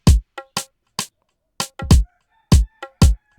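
Alternate drum samples from an Afrobeat pattern built in FL Studio hit as sharp, punchy percussive strikes in an uneven syncopated rhythm, with some notes carrying short tonal tails, loud and dry with no voices.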